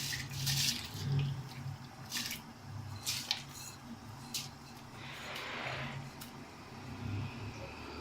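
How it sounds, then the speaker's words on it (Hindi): Basmati rice poured into a pot of boiling spiced water for camel meat biryani, a close, wet splashing and bubbling rush with a few sharper spills, steady throughout. "जैसे ही जोश आया हमने चावल डाल दिए"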